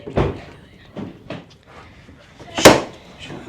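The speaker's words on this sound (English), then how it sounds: "I'm trying not to tear the door up." A house door is pushed and wrenched against its lock from outside, with several dull thumps and knocks and one sharp loud bang near the end, close by and under brief voices.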